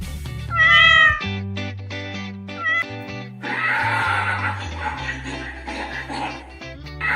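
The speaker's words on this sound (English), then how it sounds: "Cat." A cat gives a loud, close meow over gentle background music, followed by quieter, softer mewing and rustling sounds.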